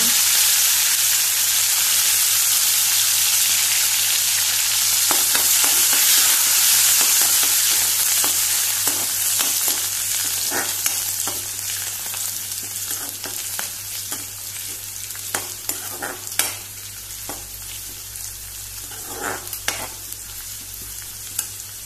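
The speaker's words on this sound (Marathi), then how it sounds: "तेल ते बरे मातशे कडक तापलेले ओली कोथंबीर घालुया" Fresh wet coriander leaves hit strongly heated oil in a Goan-style cabbage bhaji pan, giving a steady loud sizzle and spatter that gradually eases, with scattered sharp crackles and pops throughout.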